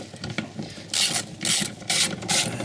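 Four quick bursts of a ratchet wrench spinning off size 10 nuts on an Audi A6 while removing the yaw sensor, close and loud, with faint clicking between bursts and no talking.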